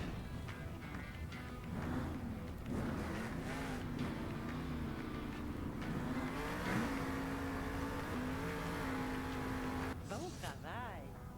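A Monster Jam truck accelerates forward in a video game, its engine droning steadily with rising and falling revs throughout, while a voice talks over it.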